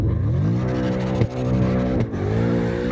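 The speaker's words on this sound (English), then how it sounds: "He turns, the car holds the drift." Car engine in CarX Drift Racing Online holding a long drift, loud sustained revving with pitch dips and climbs at each throttle change and brief tire noise, constant and close with no talk.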